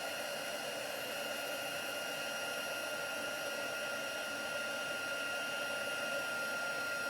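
A heat tool blows steadily to melt embossing powder during a stamping craft session, a loud, even, hissing whoosh of hot air that holds unbroken throughout.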